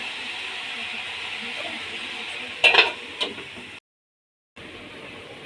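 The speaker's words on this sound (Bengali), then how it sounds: "হালকা করে নেড়ে আমি এবার ঢাকা দিয়ে দেব।" Khesari greens curry sizzling in a pot while being lightly stirred, a steady frying hiss with a couple of clinking scrapes of the spoon, then a brief silence as the lid goes on.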